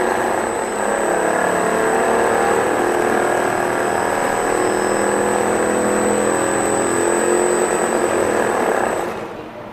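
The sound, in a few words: twin-engine model aircraft engines revving with throttle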